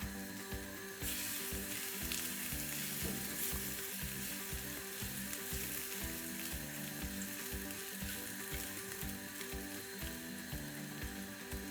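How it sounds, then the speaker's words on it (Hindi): Garlic sizzles in hot oil in a pan for a Hindi/Urdu chicken crumb roll filling; steady, close frying crackle is joined by occasional stirring scrapes throughout, with no talking. "थोड़ा सा हमने इसमें ऑयल डाला है और लहसुन डाल के थोड़ा सा सोते कर लेते हैं इसको।"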